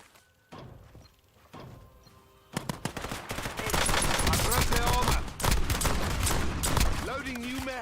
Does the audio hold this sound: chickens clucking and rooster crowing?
no